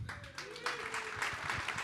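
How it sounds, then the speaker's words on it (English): Audience clapping at an awards show celebration, a modest patter of hands mixed with talk, fairly close. "let's give yourselves a round of a hand"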